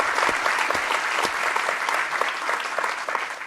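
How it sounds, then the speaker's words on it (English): Audience applause at a live book interview event, a dense, even wash of clapping from a sizeable crowd, held at a steady level throughout with a few louder close claps near the start. "I think that deserves a round of applause"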